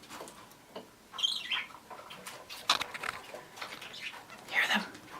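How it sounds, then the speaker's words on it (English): Several pet birds chirp indoors with the light off, giving sparse, soft high calls at irregular moments over quiet room noise. "Sometimes they chirp with the light off."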